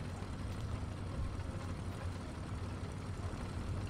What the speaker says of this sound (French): Ça ressemble à du moteur allemand.